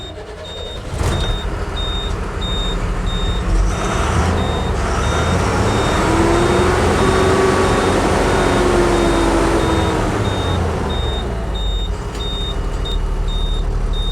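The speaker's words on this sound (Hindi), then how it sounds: "अब गाड़ी को स्टार्ट करते हैं।" A Tata BS4 truck runs loudly and steadily throughout, its engine drone overlaid by a regularly repeating reversing-style beep, with a rising-and-falling tone in the middle as the truck is started for a test after an SCR NOx sensor wiring repair.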